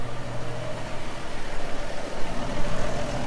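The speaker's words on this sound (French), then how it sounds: "il faut que j'avance légèrement avec le tracteur" A tractor engine idles steadily with a low, continuous rumble as it edges slightly forward, alone at close range without voices.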